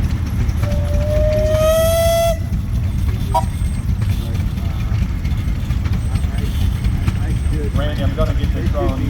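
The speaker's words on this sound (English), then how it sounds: "You guys got a whistle for me there?" An antique steam engine's whistle blows once, loud and rising, over a constant rumbling engine and chugging noise; faint chirpy sounds follow.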